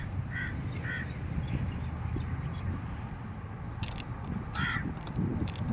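A crow caws several times at a distance, two short calls early and a louder pair later, over steady low wind or traffic rumble outdoors near sand.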